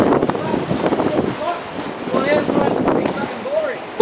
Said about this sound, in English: Try and get out of the wind.